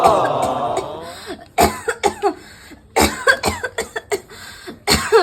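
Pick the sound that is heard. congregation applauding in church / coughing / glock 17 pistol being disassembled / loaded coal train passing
coughing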